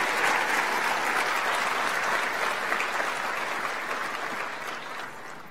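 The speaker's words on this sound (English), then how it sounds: "Can we please have a huge round of applause" Loud, steady applause from an audience at the WA Education Awards presentation for the finalists, continuous and full throughout, easing slightly toward the end.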